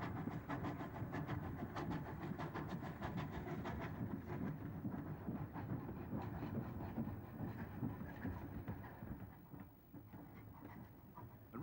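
A Great Eastern J69 0-6-0 tank steam engine on the rails, a steady rhythmic rumble and clatter of wheels passing at moderate distance, gradually fading toward the end.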